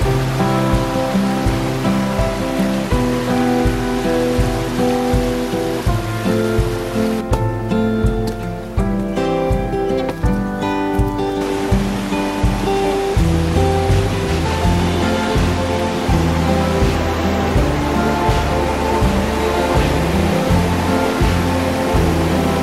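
Water cascades down the granite slope of the Silver Apron into Emerald Pool in Yosemite, a constant loud rushing roar that fills the whole stretch without pause.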